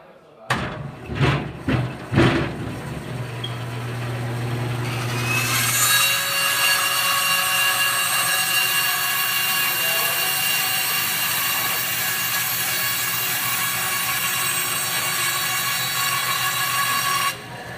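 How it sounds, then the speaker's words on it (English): Bandsaw cross-cutting a warped board of lumber in a woodshop: a few knocks and handling thumps, then the blade's steady whining, ringing hum through the cut, loud and close, holding evenly until it drops at the end. "he's going to use the bandsaw just to do his cross cut"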